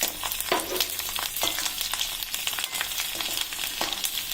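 Chopped garlic fries in hot oil, a steady close sizzle with crackling pops and bursts of stirring scrapes throughout, no talk.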